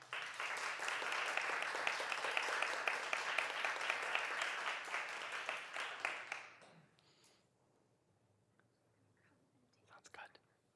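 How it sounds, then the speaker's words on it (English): A lecture audience claps in a long, dense round that holds steady for about six seconds, then fades quickly into near silence, leaving a few faint scattered sounds near the end. "please join me in giving our speaker one more round of applause"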